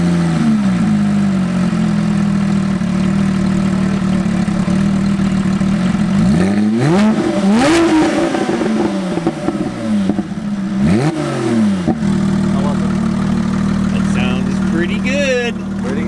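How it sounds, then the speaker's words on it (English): A Porsche GT3 race car engine idles with a deep steady burble, then gets several sharp rising revs that fall back to idle, loud and close, with people talking nearby. "Want me to start it and rev a little bit?"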